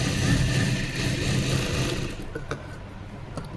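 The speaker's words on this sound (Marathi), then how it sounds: "पूर्ण शिलाई करून घ्यायची पट्टीला।" A sewing machine stitches a fabric strip onto a garment lining with a steady, quiet motorised whir for about two seconds, then stops, leaving faint handling clicks.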